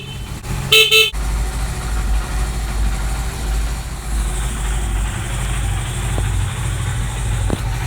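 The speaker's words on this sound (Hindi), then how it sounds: "जो हमारा हॉर्न है ये भी बिल्कुल सही चल रहा है" A Honda CD 70 motorcycle horn, running on a capacitor in place of a battery, gives one short, loud beep near the start, then the engine idles with a low steady rumble for the rest.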